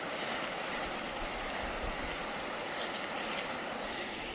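Rushing water near a remote mountain village in Uttarakhand, a steady, dense broadband roar that stays constant throughout with no gaps, heard alone.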